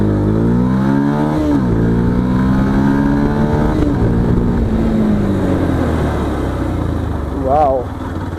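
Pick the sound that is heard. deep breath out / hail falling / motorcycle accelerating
motorcycle accelerating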